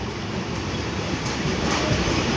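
A train crosses a rail bridge near Kechki station, a loud, steady rumble of wheels and carriages that fills the whole stretch without a break.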